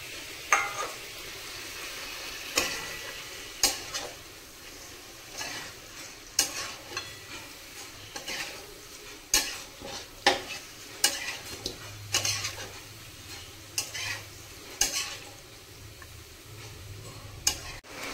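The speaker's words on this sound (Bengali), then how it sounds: "আদা বাটাটাকেও 40 থেকে 50 সেকেন্ড মতো ভেজে নেব।" Ginger paste frying and being stirred in a pan for a chicken gizzard and liver kosha: a steady low sizzle punctuated by sharp, irregular scraping clicks of the spatula against the pan, close and alone without voices.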